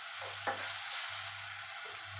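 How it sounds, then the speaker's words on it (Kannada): Bitter gourd sizzling in hot oil in a pan, a steady close fry with a brief stirring scrape near the start and no talking. "ಈ ಥರ ಇದನ್ನು ನಾವು ಸ್ವಲ್ಪ ಹೊತ್ತು ಎಣ್ಣೆಯಲ್ಲಿ ಹಾಕಿ ಫ್ರೈ ಮಾಡ್ತೀನಿ."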